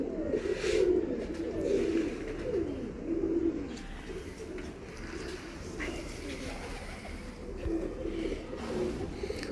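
Breeder pigeons cooing close by, soft repeated throaty coos in irregular bursts over a faint, steady background hum.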